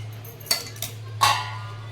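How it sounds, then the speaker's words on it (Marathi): A few light metallic clinks and clatters of a lid being set halfway on a pot of sprouted green moong curry, with a steady low hum underneath. "अर्धे झाकण ठेवते याला"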